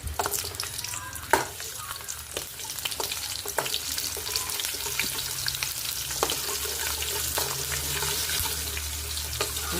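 Shallots and fenugreek seeds frying in hot oil in a pan, a dense steady sizzle with occasional sharp stirring clicks of a spoon, close and prominent throughout, with no speech.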